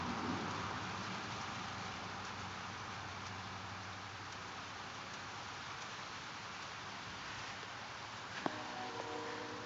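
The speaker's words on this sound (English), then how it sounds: "I love hearing rain on a metal roof." Rain falls on a metal roof during a light thunderstorm, making a steady, soft patter heard from underneath. It holds an even, hissing texture throughout, with a brief faint knock near the end and no voices.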